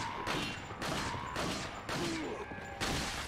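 Gunshots in Resident Evil 4, four sharp reports spaced roughly evenly over a few seconds against a low game background, each with a brief echoing tail.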